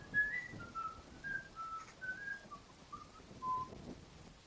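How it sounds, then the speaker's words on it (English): A person whistling a short tune alone, a series of soft, clear melodic notes rising and falling at a relaxed pace, close and fairly quiet. "As I turn around, looking at the door, starting to whistle."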